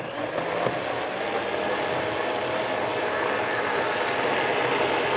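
A high-speed blender purées squash soup, its motor producing a continuous, even roar that holds steady across the whole stretch with no pauses and no talking.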